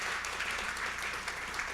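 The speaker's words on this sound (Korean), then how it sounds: "큰 박수 보내주시면 감사하겠습니다." Steady applause from a forum audience in Seoul, a dense wash of many hands clapping evenly throughout, fairly close and sustained with no talking.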